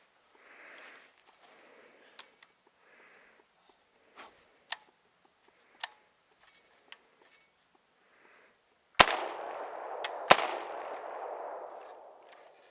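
An FN SCAR 16S rifle's charging handle is worked and the bolt locks back: faint small ticks and clicks at first, then two loud, sharp metallic clacks close together that ring out briefly, with no voices.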